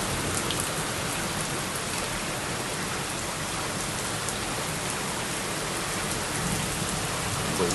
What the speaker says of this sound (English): how loud the thunder is. It's like increasingly louder every time it strikes.